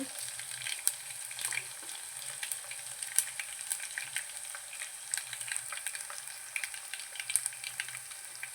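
Three dry red chillies fry in a pan with garlic as the base for a tomato pickle, a steady close sizzle broken by sharp crackles and pops, with no voices.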